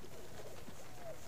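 Soft pigeon coos in a video game, a brief, quiet stretch, low and murmuring against a faint background hum.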